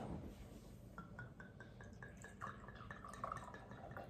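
Red wine is poured from a bottle into European-style wine glasses, giving a faint, rising gurgle of liquid filling the glass over several seconds, quiet and close.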